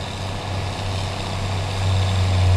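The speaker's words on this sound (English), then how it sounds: "I do like the sound of this tractor" Steady low engine drone of a tractor in a farming video game, a constant idling hum that swells slightly louder toward the end, with no talk over it.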